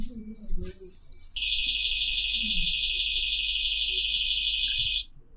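A loud, steady high-pitched alarm tone blares continuously for several seconds after a brief murmur, then cuts off abruptly.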